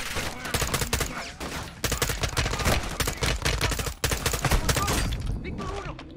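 Rapid automatic gunfire from the Modern Warfare 2 PC campaign, with dense, sustained bursts of shots that keep going over several seconds, loud and close, with brief gaps between volleys.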